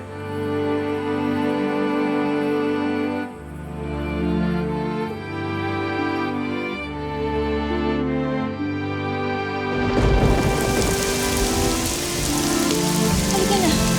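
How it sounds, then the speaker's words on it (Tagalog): Background music with low sustained tones plays first, then a heavy downpour of rain takes over in a dense, steady hiss for the last several seconds; no distinct thunder cracks stand out. "Umuulan na, Ivan."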